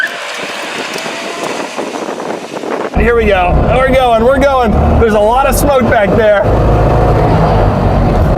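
A Trabant car's engine drones loudly and steadily as the car drives off, with buzzy wind-buffeted rumble under someone talking and other voices nearby.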